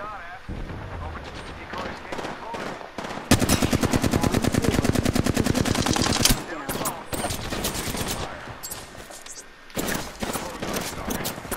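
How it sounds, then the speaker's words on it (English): Automatic gunfire in the Apex Legends battle royale game, a dense burst of rapid rounds lasting about three seconds at close range, with more scattered shots and game sounds around it under talk. "Getting shot at."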